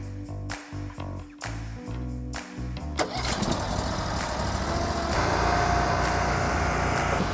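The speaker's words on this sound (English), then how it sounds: "So we will hook up our conveyor and process some firewood." A Hud-son HWB log splitter with a conveyor runs while processing firewood; a small engine idles with a choppy rhythm, then revs up into a loud, sustained roar.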